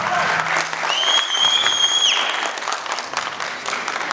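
An audience claps loudly and steadily at a graduation ceremony for a TikTok academy. The applause is a dense wash of many hands with a few whistles riding over it.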